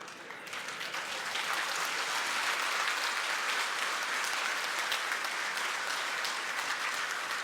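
A crowd at a political rally in Barshi claps in unison, a dense, steady burst of applause that swells within the first second and holds loud and even to the end, with no voices rising above it.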